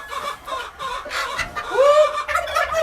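Hens cluck around a coop during egg collection, giving several short, close clucks and then a louder rising squawk.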